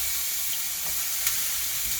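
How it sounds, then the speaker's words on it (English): Fruit such as pineapple fries in a little oil in a pan indoors, giving a steady, even sizzling hiss with one faint tap partway through. "we'll just throw a little oil in the pan and fry it in the house"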